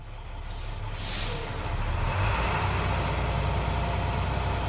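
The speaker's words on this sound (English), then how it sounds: "Apply a little throttle." A school bus engine in drive revving slightly under light throttle, a deep steady rumble swelling a little midway, with a brief airy hiss near the start.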